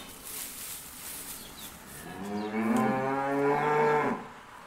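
A cow in a barn lets out one long, loud, close moo lasting about two seconds, with faint barn ambience before it.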